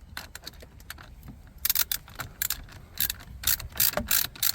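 A T50 Torx driver on a ratchet tightens the steering wheel bolt of a Lincoln Town Car, giving quick, light pawl clicks in uneven close bursts that grow louder and denser toward the end, with no voices.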